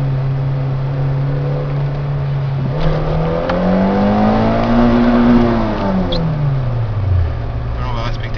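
A running car engine holds a steady idle, then climbs in pitch as the car pulls away slowly through town, engine note rising and falling smoothly, with a person talking over it.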